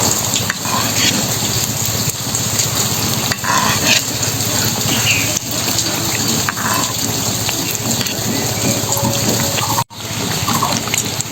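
A large Dhakai paratha fries in oil in a pan, giving a steady, dense sizzle that runs continuously at close range, broken by a brief dip near the end.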